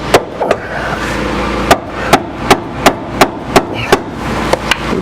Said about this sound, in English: so I think I'm going to try it with a mallet first before I bring out the baby sledge